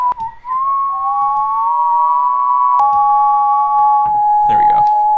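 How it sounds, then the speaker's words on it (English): A person whistles a sustained, steady tone that shifts pitch slightly a few times, clear and close, with a few faint clicks and rustles. "I'll start whistling and then click start"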